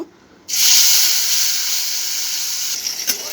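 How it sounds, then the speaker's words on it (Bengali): A sudden loud sizzle as teasel gourd hits hot oil, settling into a steady, crackling frying hiss close by. "একই তেলে আমি কাঁকরোলগুলোকে দিয়ে ভেজে নেব"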